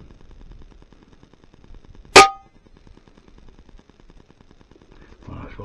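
A single sharp crack from an FX Impact .22 air rifle fired at a 525-yard long-range target stands out loud and close against quiet, with a faint voice near the end.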